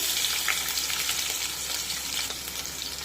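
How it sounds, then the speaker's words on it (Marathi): Crushed garlic cloves and cumin seeds fry in hot oil over a low flame for a spinach gargata, giving a steady, close, crackling sizzle without any talking. "त्यानंतर 8 ते 10 पाकळ्या ठेचलेला लसूण टाकूया।"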